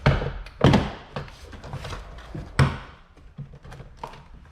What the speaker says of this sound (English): grab a hold of the bottom of the door panel and just kind of pull. And it may sound like you're breaking it, you're not breaking it.